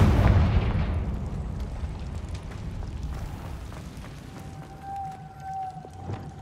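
A Confringo fire spell explodes in the Hogwarts Legacy video game, opening with a deep booming blast that decays into a rumbling tail. A faint tonal whine follows later.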